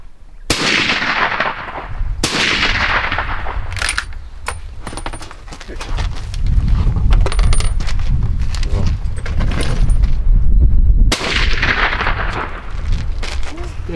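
A hunting rifle fires in Namibia, three loud, sharp reports spaced several seconds apart, each with a long ringing decay over steady outdoor background noise.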